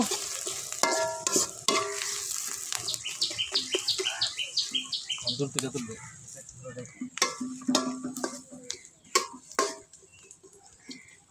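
Onions frying to light brown in a village kitchen while being stirred, with irregular scraping and clattering over a soft sizzle, birds chirping nearby and some voices in the background.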